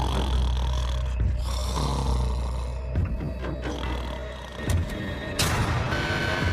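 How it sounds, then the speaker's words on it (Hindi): A man snores while asleep, slow rasping breaths repeating close and loud over a continuous low rumble, with brief rustles between snores. "तुम्हारे खर्राटों ने सोने नहीं दिया।"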